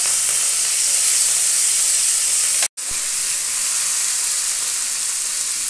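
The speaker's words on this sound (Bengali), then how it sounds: "এবার চিংড়ি মাছগুলো ভেজে নিচ্ছি।" Prawns frying in a pan give off a loud, steady sizzling hiss that fills the whole stretch, broken by one brief silent gap partway through, with no voices.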